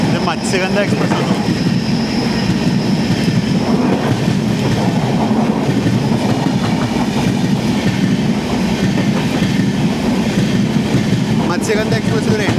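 The Matsyagandha Express passes close by at a station crossing, making a loud, sustained rumble of rolling wagons with rhythmic clickety-clack and faint wheel squeal, steady from start to finish.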